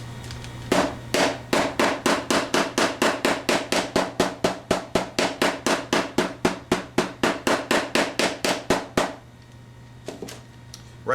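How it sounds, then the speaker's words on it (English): A larger hammer taps a fret into a guitar neck with a long, steady run of sharp, evenly spaced strikes, close and loud, ending abruptly and followed by quiet handling. "I'm going to have to use the larger hammer"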